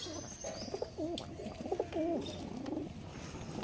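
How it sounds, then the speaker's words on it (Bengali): Pigeons coo in a repeated, wavering series of soft calls, close by, with faint chirps and background noise between them. "একজোড়া পায়রা শখ করাচ্ছি আমি, দেখে নিন"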